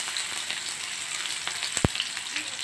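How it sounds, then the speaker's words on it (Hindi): Small chopped onion sizzling in hot oil, a steady close crackle with a single sharp pop partway through and no talk. "ऑयल गर्म हो गया है, हम इसमें ऐड कर देंगे ऑनियन"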